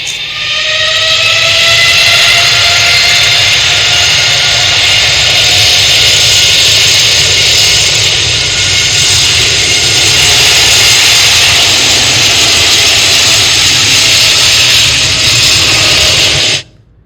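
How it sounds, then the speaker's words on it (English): A loud, steady Boeing 787 Dreamliner jet engine roar with a high whining tone as the plane readies for takeoff, holding constant for about sixteen seconds before cutting off abruptly. "there are a lot of sample recordings of the Dreamliner engine on the YouTube, so I just used one sample here"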